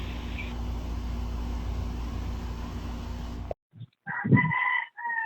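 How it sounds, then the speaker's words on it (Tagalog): A rooster crows a drawn-out call close by, coming in after a steady noisy hum cuts out, with a few short clucks around it and no talking. "May manok pa talaga."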